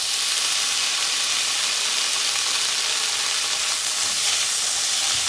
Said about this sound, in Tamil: வெங்காயம் நல்லா வதங்கிடுச்சு, இப்போ தக்காளி ஆட் பண்ணிக்கிறேன்